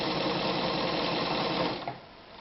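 An Anker Phoenix Excelsior ZZ 151 sewing machine stitching a zigzag seam, a steady close whirring hum that runs evenly and then slows and stops near the end.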